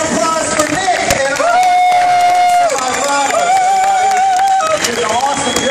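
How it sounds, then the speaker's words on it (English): A live audience at a Fear Factor Live stage show applauds and cheers, a dense, steady crowd roar throughout, with a voice shouting over it. "Big round of applause for Nick"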